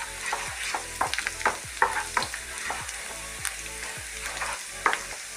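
Ginger fries in a pan for a ginger pachadi, with a close, steady sizzle and rhythmic stirring scrapes about twice a second.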